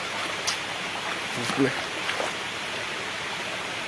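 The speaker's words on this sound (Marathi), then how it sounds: "माझ्याकडे आता छत्री नाही मिळत पाणी पडतोय खूप" Steady broadband hiss of heavy rainfall outdoors in a forest, a constant wash of falling water with a few faint knocks and shifts near the microphone.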